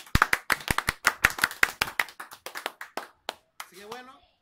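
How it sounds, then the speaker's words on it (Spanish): Hand clapping for the cook at a home barbecue, a burst of sharp, fairly close claps from a few people that thins out, with voices and laughter toward the end. "Creo que se merece un aplauso"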